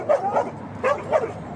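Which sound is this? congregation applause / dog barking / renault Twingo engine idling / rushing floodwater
dog barking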